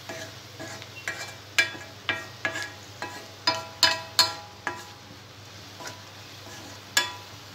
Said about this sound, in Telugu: ఉల్లిపాయ ముక్కలు కొద్దిగా ఫ్రై అయిన తర్వాత పసుపు వేసుకోవాలి.